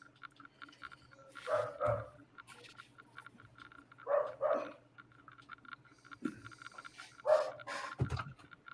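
Several dogs bark in scattered bursts at a moderate distance, with pauses between volleys and some panting, over a low steady background hum.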